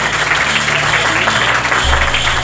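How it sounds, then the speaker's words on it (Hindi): A school audience claps in response to a counsellor's call during a school address, a steady burst of applause with a low hum underneath, fairly loud and continuous for the full moment. "जोरदार ताली बजाएं"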